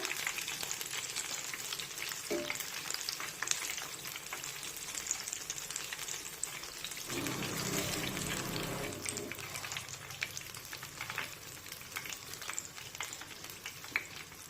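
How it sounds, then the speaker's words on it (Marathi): Ridge gourd bhaji fritters deep-fry in hot oil with a steady, dense crackling sizzle that runs the whole time, with a few brief utensil knocks and a slight shift in texture midway. "आता अशाच पद्धतीने सर्व भजी मी तळून घेते"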